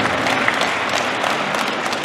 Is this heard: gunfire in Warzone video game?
no